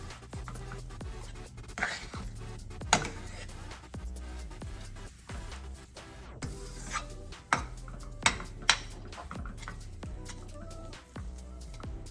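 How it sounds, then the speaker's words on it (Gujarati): A spiced mixture being stirred together in a pan, with repeated scraping spoon strokes and several sharp metallic clinks of utensil against the pan over a steady rhythm. "હવે બધું મિક્સ કરી લઈએ."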